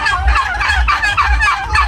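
Several male turkeys gobble in loud, overlapping bursts while fighting in a pen, close by, with a steady low rumble underneath and no talking.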